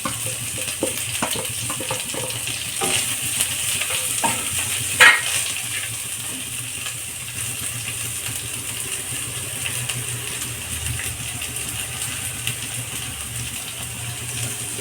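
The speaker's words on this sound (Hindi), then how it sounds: "इसी में जो हरा प्याज कट करके रखे थे उसको डाल देंगे।" Chopped green onions stirred and frying in a pan for a Hindi-style green pea ghugni breakfast dish, giving a steady close sizzle with scraping stir strokes, a brief louder clatter midway, and no talking.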